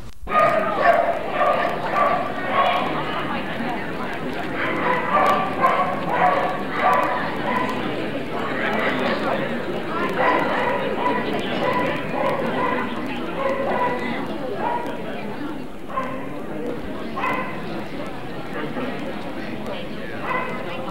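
Several dogs bark and yip during judging for best red sable at a national collie club specialty show, a busy, continuous din with indoor crowd chatter running under it throughout.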